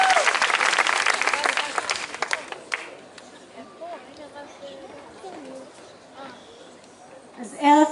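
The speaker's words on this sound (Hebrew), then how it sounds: "כפיים אפשר? עוד קצת?" Enthusiastic audience applause at a tenth-anniversary gala premiere for a dance troupe, dense and loud for about three seconds, then thinning into scattered claps and room murmur before a brief swell at the end.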